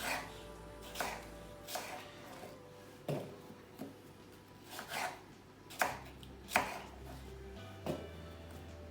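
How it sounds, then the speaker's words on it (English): A knife cutting apple into pieces on a board, about a dozen distinct chops at an uneven, unhurried pace, close and clear over faint background hum. "Then each piece I'm cutting into half this way, and then probably to about into 6 even pieces."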